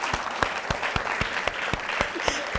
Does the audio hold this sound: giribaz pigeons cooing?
no